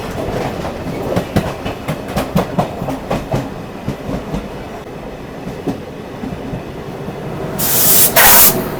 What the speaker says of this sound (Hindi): भाई वंदे भारत जा रही है बाजू से